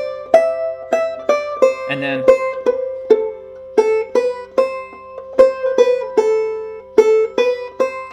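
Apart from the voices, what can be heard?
clawhammer banjo playing A part of Snowdrop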